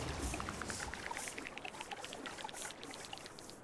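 Water pours and trickles in the video game Terra Nil as an area fills, a soft continuous stream with small bubbling drips and light chiming tones, no voices.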